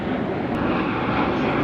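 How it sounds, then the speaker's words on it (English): An airplane flies overhead near an RV park in Chicago, a steady low engine roar that holds its level throughout with no voices. "Look, Hensley, we got airplanes too."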